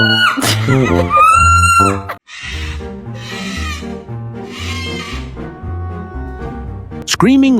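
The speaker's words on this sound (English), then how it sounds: "Screaming like it's the end of the world." Parrot screaming dramatically in loud, shrill bursts with harmonic squawks, followed by a stretch of music-like tonal sound and another sharp scream at the end.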